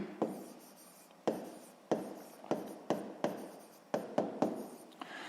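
Sixth-grade math homework written out on paper, a run of about ten quick pen strokes, each starting with a crisp tap and trailing into a soft scratch, close and quiet with no voices.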